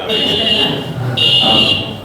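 Office fire alarm sounding in a public hearing room: a loud, shrill, continuous buzzing tone that pulses in two bursts, with faint murmuring underneath.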